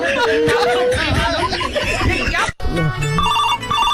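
A phone ringtone chimes in a short repeating beeping melody as people chatter and laugh nearby.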